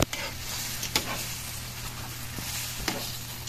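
Squash simmering in coconut milk and condensed milk is stirred in a pot, a soft bubbling sizzle with a few scraping spoon knocks, close and steady, no talk.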